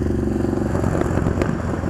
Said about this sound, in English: And a motorcycle.